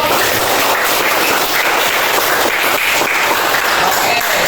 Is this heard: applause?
yes